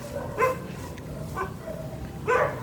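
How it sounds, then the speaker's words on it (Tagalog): Dogs bark a few times at a distance, three short barks spread across a steady outdoor background hum. "Diyan oh, maraming aso."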